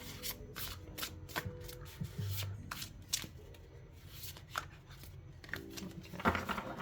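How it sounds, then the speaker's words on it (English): A 78-card Animal Guides tarot deck is overhand shuffled by hand, giving quick repeated papery slaps and glides in an uneven rhythm. The sound is close and fairly soft, with no talk. "they do overhand shuffle nicely"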